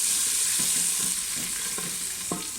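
Spiced masala mixed with yogurt frying in oil for a mutton and potato curry, a constant hissing sizzle with occasional soft stirring scrapes, close up and with no voices.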